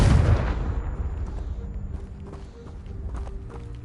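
A Confringo blast spell goes off in Hogwarts Legacy, a loud fiery burst at the start decaying into crackling rumble, followed by scattered footsteps and faint clicks.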